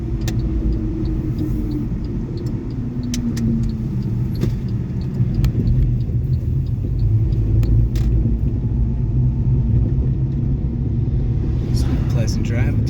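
Steady low road rumble fills a moving car's interior, with engine drone and tyre noise close and constant throughout, plus a few faint clicks and rattles.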